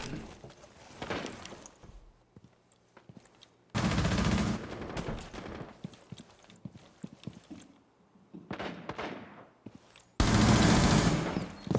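Loud rapid bursts of gunfire in Rainbow Six Siege, fired as a Dokkaebi peeks, arrive in several separate volleys with quieter footsteps and movement between them.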